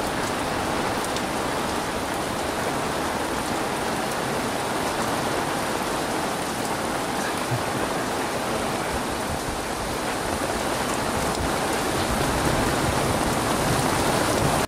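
Heavy rain pours steadily onto the canvas-covered sides and roof of a safari vehicle, a loud, dense, unbroken hiss that fills the whole stretch with no voices.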